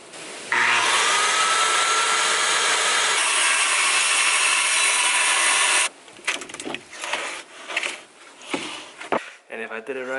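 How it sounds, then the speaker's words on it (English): A power saw cuts a sheet of plywood for a built-in window seat bench, running loud and steady for about five seconds, then stopping and giving way to clattering handling noises and movement. "I'm going to cut that plywood down to size and put it on top"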